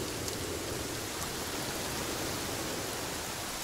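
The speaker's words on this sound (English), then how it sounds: "Is it still raining or is it just the leaves rustling? I think it's a little sprinkly" Light rain in the Sons of the Forest game, a steady soft wash of drizzle on leaves with no distinct drops, constant and even throughout.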